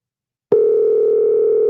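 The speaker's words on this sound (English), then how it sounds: "I'm gonna call my friend. Let's see if he answers the phone." A telephone dial tone cuts in abruptly after half a second of silence and holds as a loud, steady, unbroken tone to the end.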